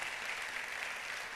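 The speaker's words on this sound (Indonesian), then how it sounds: "Kita kasih tepuk tangan sekali lagi yang meriah buat Tuhan kita." A church congregation at a January 2016 worship service claps in a brief, steady burst, evenly sustained throughout.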